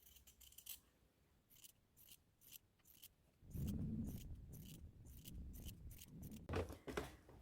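Sewing scissors snip fabric seam allowance on a baby bonnet in quick repeated cuts, crisp close-up clicks in bursts, with rustling cloth handled between snips.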